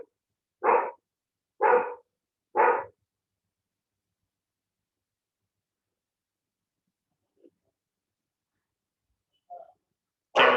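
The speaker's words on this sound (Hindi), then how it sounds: "से कुत्ते के भौंकने का आवाज आ रहा है।" A dog barks three times in an even rhythm, the barks loud and clear against silence, followed by a couple of faint, distant sounds near the end.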